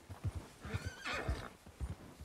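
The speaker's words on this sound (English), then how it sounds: "Let's look for this white horse" In Red Dead Redemption 2, a horse lets out a clear, fairly close whinny midway, while soft rhythmic hoof clops thud steadily before and after it.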